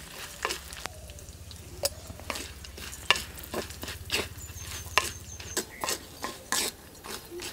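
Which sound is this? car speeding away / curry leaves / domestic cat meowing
curry leaves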